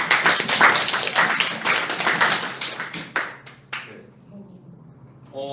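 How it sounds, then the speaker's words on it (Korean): Listeners at a university youth studies presentation event clap after the youth culture team's presentation. Brisk, dense clapping stops abruptly partway through, leaving near quiet before a voice comes in at the end. "다들 박수 한 번만."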